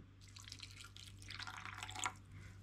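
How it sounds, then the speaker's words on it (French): Lukewarm water trickles and drips into a bowl of yeast for homemade bagel dough, a soft, close splashing that swells briefly near the end over a faint steady background hum. "On met la moitié de l'eau et on vient y rajouter une cuillère à café de notre sucre."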